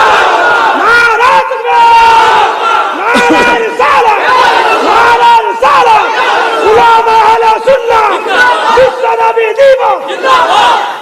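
A large crowd at an Islamic religious gathering roars out the takbir chant in repeated loud, ragged bursts, many voices shouting together close and full.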